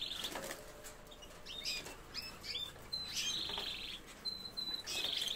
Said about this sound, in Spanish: Qué cacho de pájaro